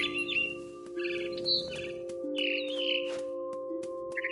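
A mama bird in the game What Remains of Edith Finch gives short, bright chirps and squawks in scattered bursts over a steady low hum, close and moderately loud.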